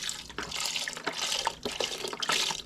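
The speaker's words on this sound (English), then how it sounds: "I'm going to add the beef broth." Beef broth pours into a soup pot of garden vegetable soup, a steady, close liquid splash and gurgle running without pause and without talk.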